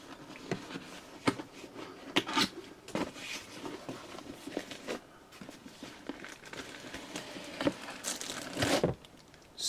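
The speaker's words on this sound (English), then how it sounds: "So let's get him outside this brown shipping box." Cardboard brown shipping box being opened to unbox a Teenage Mutant Ninja Turtles Ultimates Leonardo action figure, with close, irregular crinkling, tearing and handling taps repeating throughout, no voices.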